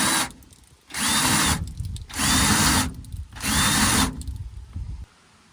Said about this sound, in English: as you're drilling, pulse the trigger